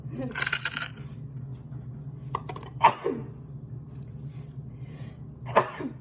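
Two sharp sneezes a few seconds apart, close and loud, set off by Cajun seasoning while cooking, over a low background hum with some faint handling noise.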